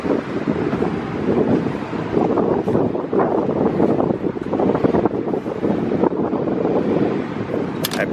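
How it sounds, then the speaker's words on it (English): High-pressure rinse washing an Acura Integra, a continuous loud hissing spray that runs steadily without break. "High pressure rinse."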